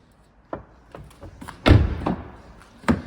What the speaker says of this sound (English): As you open the rear doors